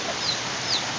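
A chicken clucks twice in short, close calls outdoors, heard over the steady hiss of rain.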